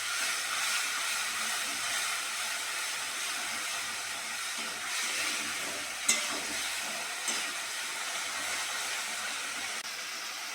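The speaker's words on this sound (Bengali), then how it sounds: "এবার মশলাটা ভালো করে কষে নেব।" Spice paste fries in a pan while being stirred, a continuous hissing sizzle with occasional scrapes and one sharp knock, close and steady throughout, no voices.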